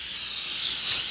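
Coconut oil sprayed from a can onto a muffin mold in a kitchen, a steady close hiss lasting about a second with no talking over it.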